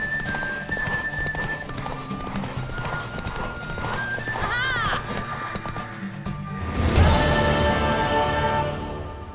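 Horse in the video game The Witcher 3 galloping with a rapid clip-clop of hooves, then letting out a loud, rising whinny near the end, with game music and sound effects underneath.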